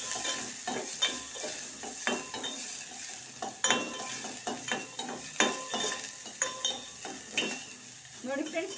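Small onions frying in a pan for millet soup, with a gentle hiss and a regular rhythm of close spatula scrapes and taps as they are stirred.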